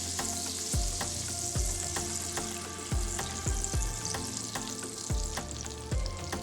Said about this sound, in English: I am adding butter to my warm pan. I'm just gonna allow this to melt.